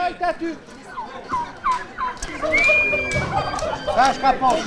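Turkeys gobble in quick repeated bursts amid a busy crowd at an outdoor livestock market in Novoselë, with people chattering nearby and a brief whistle-like tone in the middle.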